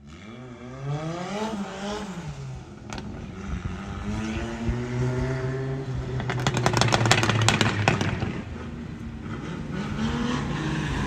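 Drift cars at a Cyprus Drift Championship practice round scream at high revs, with engine notes rising and falling as they power through zones, a dab of handbrake and a spin; a rapid burst of popping crackle comes in midway, loud and continuous throughout.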